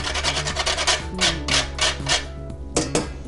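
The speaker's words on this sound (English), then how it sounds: "All you have to do with this is, again, get your grater, get the fine side of the holes" Whole nutmeg is grated on the fine side of a grater in a series of quick, close rasping strokes, with short pauses between them and no talk.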